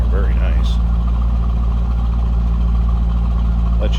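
A 2003 Chevrolet Corvette 50th Anniversary convertible engine idles with a steady, loud low rumble, with brief faint sounds near the start and end.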